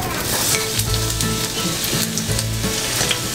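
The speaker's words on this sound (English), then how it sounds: "We're gonna start by adding in the denser vegetables like the onions, the carrots, and the cabbage." Onions, carrots and cabbage fry for okonomiyaki in a loud, close, steady sizzle with bursts of crackling as the vegetables are stirred, no talking over it.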